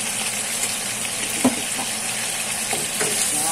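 A ginger soy chicken sauce is stirred in a frying pan, sizzling steadily up close with scattered scrapes and one sharp clink of the utensil, and no talking.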